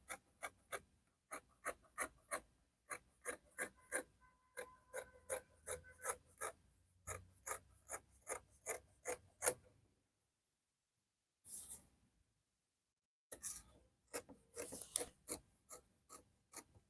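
Scissors snip through fabric while cutting out a peplum blouse, a quick series of close, crisp rasping cuts in bursts, then a pause before a few more snips, with no talking.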